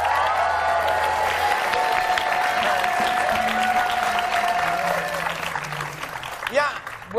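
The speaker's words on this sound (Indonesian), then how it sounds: "Kalau begitu tepuk tangan dulu buat kalian semuanya." A studio audience on a television talk show breaks into sustained applause and cheers while music plays, the clapping gradually thinning toward the end.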